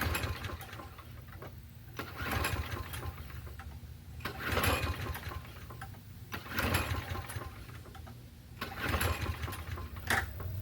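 A Toro Recycler lawn mower, repowered with another Quantum engine, runs with a rough, uneven drone that surges loudly about every two seconds, heard at moderate distance with no talking.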